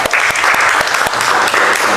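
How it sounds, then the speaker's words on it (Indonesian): A classroom of students applauds a presenting group after a lesson on direct-current circuits, a loud, close burst of many hands clapping rapidly and steadily. "Beri tepuk tangan untuk kelompok"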